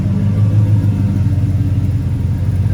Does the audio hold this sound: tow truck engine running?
yes